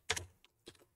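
Two short bursts of computer keyboard keystrokes while typing a container registry address, a quick cluster of clicks followed after a pause by a second lighter cluster, close and clear with no talk.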